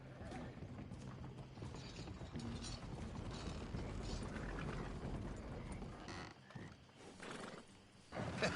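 Horse whinnying with clip-clopping hooves and creaking tack in the video game Red Dead Redemption 2, a clear neigh over continuous mechanical rattling and hoofbeats, with brief talk nearby.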